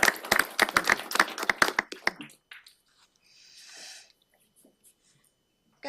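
Applause for veterans at a county commissioners' meeting, a short burst of close, separate claps lasting about two seconds, followed by near silence with faint room noise.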